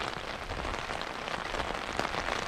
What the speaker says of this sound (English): It's always fun just to see and hear the rain falling.